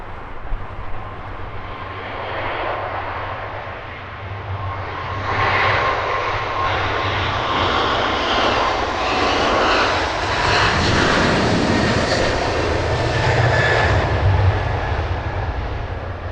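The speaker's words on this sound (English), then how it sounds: "Nice big Emirates King of the Skies, taxiing for departure here on Heathrow's northern runway, 27 right." An Emirates A380 airliner taxis for departure on Heathrow's northern runway 27 right, a loud, steady jet engine roar that swells and rumbles continuously, close by, with no voices over it.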